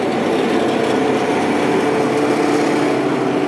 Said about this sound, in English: And then of course there's a leaf blower.